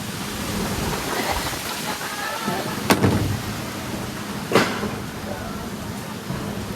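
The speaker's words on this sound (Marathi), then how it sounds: "संध्याकाळी मस्त पाऊस लागलाय." Heavy evening rain during monsoon flooding in Vasai, a steady hiss of rainfall with a couple of sharp cracks and distant rumbles of thunder, a voice faintly underneath.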